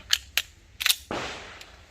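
Gunshots at a shooting practice with a handgun: two sharp reports, then a clustered burst and a final report followed by a lingering echoing wash, loud and close with no talk.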